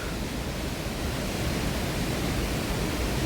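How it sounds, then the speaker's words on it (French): A mountain waterfall on the GR 10 trail near Lac de Gaube, south of Cauterets, roars as a steady, dense broadband rush close by, unbroken and loud throughout with no voices. "On entend encore le bruit de la cascade qui est juste à gauche là, mais on ne la voit plus."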